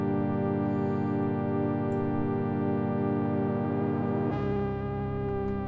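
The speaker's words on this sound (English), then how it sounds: "You can turn down the mod and it sounds like this." Arturia Mini V synth pad with its modulation turned down, a steady sustained chord of stacked harmonics that changes voicing partway through, playing alone at even volume.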